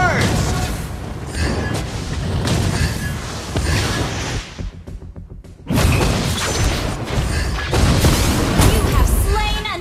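Repeated fiery blasts of Valir's Lava Burst skill in the Mobile Legends video game, loud booming explosions piled over game music and effects, with a brief quieter gap midway before the blasts resume.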